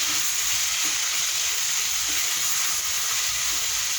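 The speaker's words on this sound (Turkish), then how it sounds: "Bir miktar da şu şekilde baharatlarımla karıştırıyorum." Meat frying with spices and chili flakes in a pan hisses with a loud, constant sizzle, and soft stirring scrapes come through underneath.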